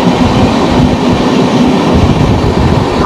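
The 12354 Lucknow-Howrah Super Fast Express runs in rainy, cloudy weather, a loud, close, continuous rumble of wheels and carriages with faint clatter.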